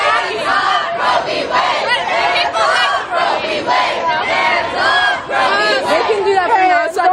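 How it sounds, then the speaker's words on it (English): A huge abortion-rights protest crowd chants in loud, echoing unison, rhythmic repeated slogans rising and falling over several seconds, the mass of voices reverberating around a large outdoor space. "The crowd is so loud, it's like echoed super loud."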